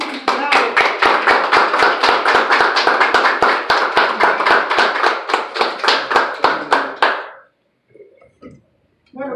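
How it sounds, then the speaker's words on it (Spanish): Audience applause for an organization's founders, rapid rhythmic clapping that starts loud and steady, fades out after about seven seconds, and is followed by faint scattered sounds. "hay que darle siempre un aplauso"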